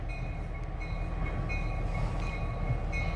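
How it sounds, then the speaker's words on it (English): A freight train rolls through the small town of Sunman, Indiana, its loud, steady rumble of rail cars close by and continuous, with a few high whistle-like tones rising above it. "We're gonna watch this train go by and head through the main part of town here."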